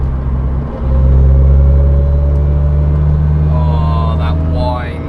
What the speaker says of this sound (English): That whine. That is happening in 4th and 5th.